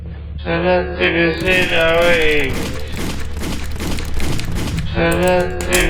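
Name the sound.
gunshots fired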